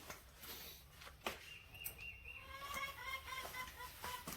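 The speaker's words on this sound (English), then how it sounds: "Chickens out there making noise." Chickens cluck and chatter at a moderate distance, with short repeated calls over a steady outdoor background hum.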